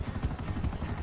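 A helicopter in the GTA 5 Online video game, its rotor producing a rapid low thudding chop that pulses steadily through a brief moment, moderately loud and alone.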